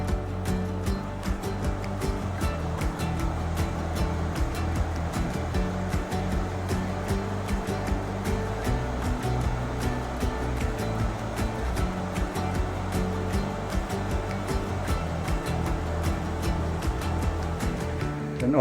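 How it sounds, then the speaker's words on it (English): A river flowing past a traditional Japanese ryokan, heard as a steady, dense rush of water from outside, constant and fairly loud with no talk over it. "we can see the beautiful river"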